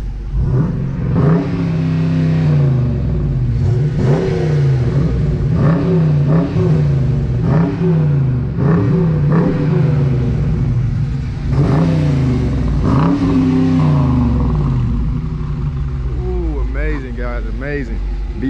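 A Dodge Charger R/T and a Dodge Challenger R/T, both Hemi V8s with muffler deletes, rev hard again and again in loud, rising and falling bursts close by, while people talk over the engines.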